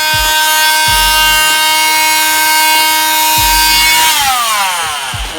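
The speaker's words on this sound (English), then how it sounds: "this is 240 grit on the mini grinder" Mini grinder with 240-grit sandpaper on an oxidized aluminum 20-inch wheel rim, giving a loud, steady high whine with a few low thumps of pressure against the metal, and the pitch sags near the end.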